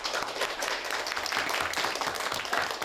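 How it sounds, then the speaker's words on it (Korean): Students and staff at a children's software camp applaud together to close the session, a dense, even wash of clapping sustained throughout at moderate loudness. "마지막은 박수로, 고생한 여러분들 위한 박수로 마무리하도록 하겠습니다"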